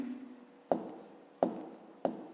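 A pen writing on paper for a fifth-grade maths exercise, three short, distinct scratchy strokes close by and quiet, with brief pauses between them.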